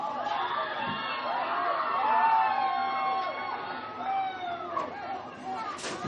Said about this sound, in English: You hear a lot of crowd noise from across the way.